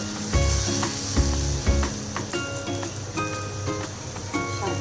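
Spice paste of turmeric, chili, coriander, cumin, ginger and garlic hitting a hot pan for a rohu fish dopiaza with potatoes and peas, a steady close sizzle with a few sharp clinks and scrapes of stirring, no talking.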